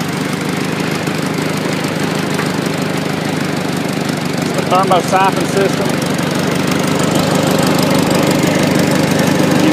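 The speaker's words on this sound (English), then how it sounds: "The tractor runs really good." A 1953 Farmall Super A tractor engine runs loudly and steadily at a constant throttle with a rough, chugging idle. Someone talks over it.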